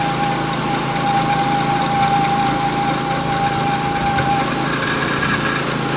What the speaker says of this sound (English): I'm just letting the mill do the work, keeping decent pressure on it.